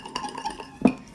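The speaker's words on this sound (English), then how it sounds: "You just have to mix it until it's pure white" Slime mixture stirred in a bowl over a mess mat, a short scraping swirl with a sharper knock of the utensil against the bowl near the end, close and fairly quiet.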